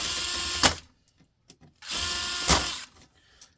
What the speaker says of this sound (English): Might get the power drill going there now.